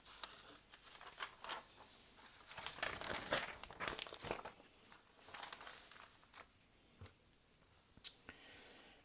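Sheets of paper being handled and turned over while working through a math practice test, with close, soft crinkling and rustling bursts that cluster in the middle and thin out into brief isolated rustles.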